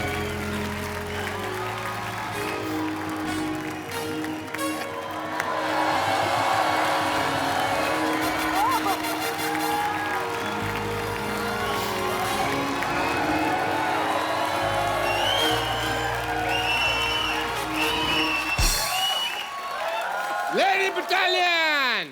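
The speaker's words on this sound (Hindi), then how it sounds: "जोरदार तालियां शाहरुख भाई" A studio audience at a TV comedy show breaks into loud, sustained applause with cheers and whoops over music, the roar holding for about twenty seconds before some swooping effects at the end.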